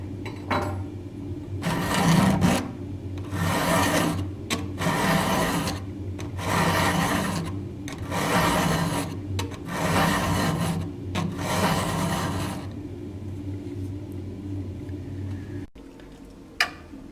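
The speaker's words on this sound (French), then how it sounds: "je place parfaitement l'arête de la lime sur la pointe de la gouge" A flat file rasps across chainsaw cutter teeth in a run of about seven regular back-and-forth strokes, each a close, gritty scrape separated by short pauses, then quieter handling near the end.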